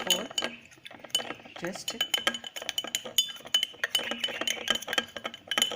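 A spatula stirring microbiology growth medium in a glass vessel gives rapid, irregular clinks and scrapes, close and fairly loud, with a brief voice in the middle.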